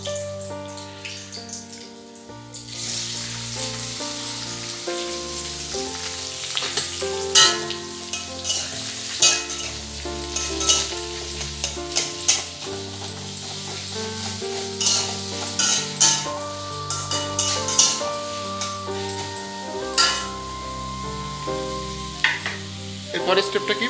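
Chopped onion sizzles loudly in hot oil in a pan, with steady frying hiss and repeated scraping and clinks of a spoon stirring, close up, while a chicken curry is being cooked.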